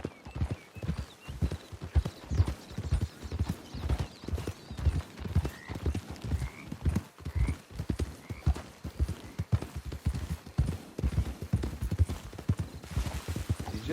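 Horse hooves clip-clop at a steady walking rhythm in the Western video game Red Dead Online, close and continuous, with an occasional faint whinny and a brief bit of talk over the hoofbeats.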